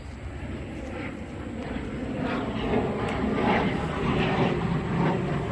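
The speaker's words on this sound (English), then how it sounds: "There comes another jet." A jet aircraft passes overhead at an abandoned drag strip, a steady broadband roar that swells gradually and stays loud toward the end, with no talking.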